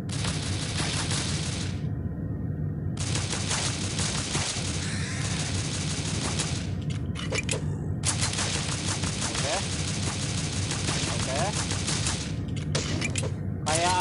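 Shotgun gunfire rings out in the zombie shooter SAS Zombie Assault 4, a dense run of loud blasts over a continuous game soundscape, with brief drops in between.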